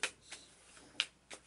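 Cards for the Shadows of Brimstone board game being shuffled by hand, heard as four short, crisp riffling snaps spaced unevenly over a second and a half, close and fairly quiet.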